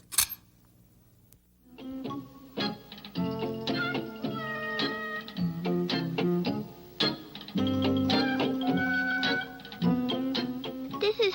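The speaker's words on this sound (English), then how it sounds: "This is my kitten, Dusty." A kitten named Dusty meows in a children's television programme, with several short mews heard over steady plucked and tinkling music that fills most of the clip.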